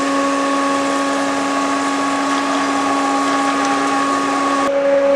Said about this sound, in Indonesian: Yang ketiga, kita hidupkan blower.